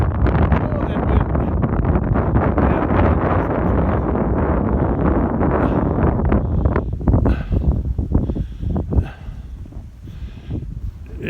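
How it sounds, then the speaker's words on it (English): Strong wind blows steadily over a deep-snow field on a bitter cold day, a loud broadband rush buffeting the microphone throughout, easing slightly toward the end while a voice speaks over it. "Oh, that wind."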